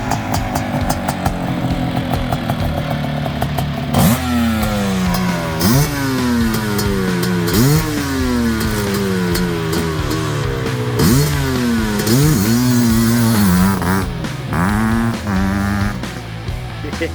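Restored Suzuki Quadzilla 500 ATV engine running loud and close, idling roughly, then revved again and again in sharp rising and falling throttle blips over a steady rumble.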